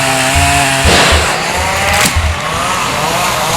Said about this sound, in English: I don't think I've ever heard so many chainsaws in one area.